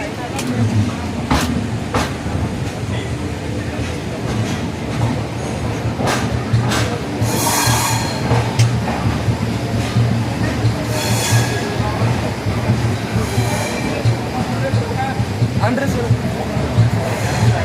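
The Pallavan SF Express, running from Chennai Egmore toward Srirangam, rumbles along the line with steady wheel-and-carriage noise, sharp rail clicks and brief squeals, heard close from on board while a voice speaks at times.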